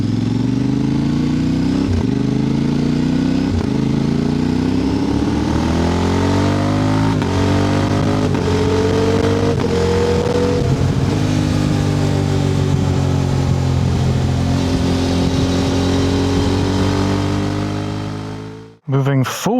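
Steady motorcycle engine drone with rising and falling revs as gears shift, under constant rushing wind noise, recorded by a DJI Mic Mini on the rear tail pack, close and loud, ending with a brief buffet.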